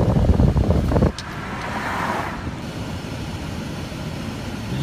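A car driving down a rural road on the Illinois side near Wadsworth, Illinois, with a loud rumble at first that drops after about a second into a steady, softer tire-and-road roar.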